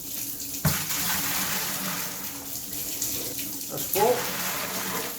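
Lukewarm water gushes steadily into a container to make a sterilisation solution for home brewing beer, a loud continuous pour with a few knocks and a brief word spoken.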